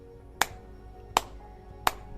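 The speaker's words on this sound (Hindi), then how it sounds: "जोर से ताली बजानी है।" Three sharp, separate hand claps spaced about three-quarters of a second apart, each a crisp isolated crack done as an acupressure exercise, with quiet room tone between them.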